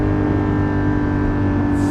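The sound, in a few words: Porsche 718 GT4 engine revving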